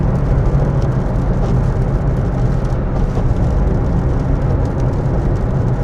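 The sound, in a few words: Toyota Aygo driving on the motorway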